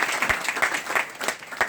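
A crowd applauds steadily at a gathering held at a dhaba, a dense wash of many hands clapping with a few louder claps standing out, sustained and fairly close.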